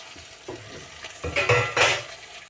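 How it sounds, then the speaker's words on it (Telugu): Chopped tomatoes tumble into a pan of frying prawns, with a few light clatters followed by two louder bursts of sizzling and stirring, close and without voices. "టమాటాలు వేసుకుందాం, అన్నీ కట్ చేసిన టమాటాలన్నీ"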